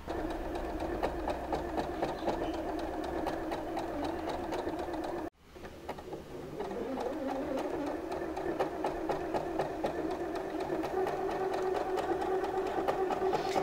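Usha Dream Maker 120 electric sewing machine running an embroidery stitch pattern, a steady rapid mechanical whirr and needle chatter close by, briefly stopping midway then resuming, with no talking.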